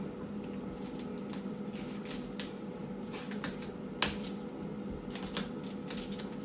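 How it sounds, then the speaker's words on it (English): Crisp leafy crackling and snapping as the outer leaves of a cauliflower are peeled away toward the core, a continuous rustle with scattered sharper snaps, close by and without talk. "Peel all the leafy stuff off till you get to that core."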